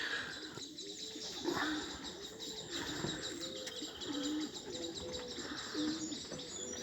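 Pigeons cooing repeatedly at a distance, soft rhythmic coos with occasional chirps and faint wing flaps over a steady outdoor hiss.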